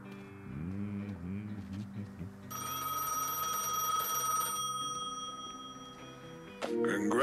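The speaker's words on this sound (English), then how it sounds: "What is that sound? Pick up the phone, the booth in front of the station." A payphone in a booth in front of the station rings in Gas Station Simulator, a sustained electronic trill lasting a couple of seconds among other game sounds and a brief voice.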